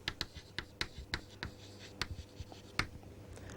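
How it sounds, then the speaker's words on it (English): A pen writes out a circuit diagram on paper in quiet, close scratchy strokes and taps, irregular and evenly spaced, with no voices. "We have to write the circuit diagram."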